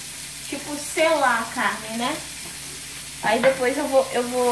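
Meat searing in a hot pan, a steady close sizzle running throughout beneath a woman's speech.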